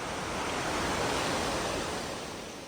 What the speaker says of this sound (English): the entire hike there and back is along a flowing river that has carved out a beautiful valley